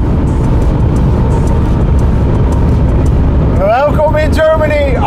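A BMW M5 CS with stability control switched off accelerates hard on the Autobahn: a loud, steady engine roar fills the cabin, then the pitch sweeps sharply upward in rising gear pulls near the end.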